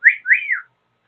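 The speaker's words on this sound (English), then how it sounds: "My bird is cat calling you." A pet bird gives a wolf whistle, a quick rising note followed by a longer swooping one that falls away, clear and close with silence after.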